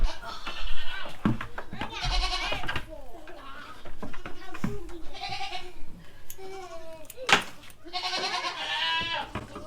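A fairly small goat bleats several times on a farm milk stand during kidding season, with loud, wavering cries recurring across the span amid handling noise and nearby movement.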